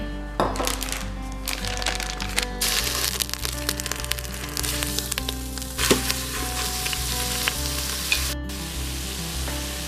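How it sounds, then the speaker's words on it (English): Meat for egg roll in a bowl sautéing on a hot surface, a loud continuous sizzle and crackle with scraping stirs and occasional sharp pops throughout, no talking. "Saute the meat"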